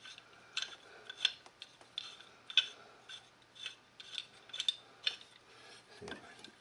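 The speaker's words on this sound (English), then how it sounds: "get my clamp out. Push that piston in like I did once before." Brake caliper piston on a 2007 Ford Explorer being pushed back with a clamp, giving a series of close, quiet metallic ratcheting creaks and scrapes in a slow irregular rhythm.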